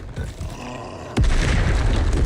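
A Confringo spell explodes in the Hogwarts Legacy video game, a sudden deep boom that follows a quieter stretch of game audio and rolls into a loud, sustained rumble.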